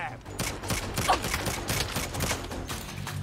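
Rapid gunfire from the Saints Row reboot video game against tough enemies, a steady stream of quick shots and mechanical clatter running throughout at moderate volume, with game music and effects blended underneath.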